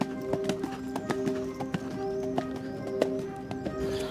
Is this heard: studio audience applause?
no